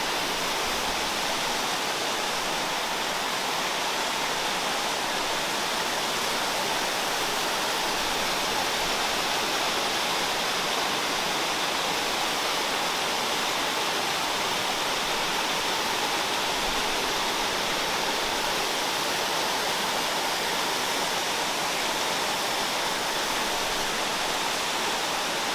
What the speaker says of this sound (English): And right by the waterfall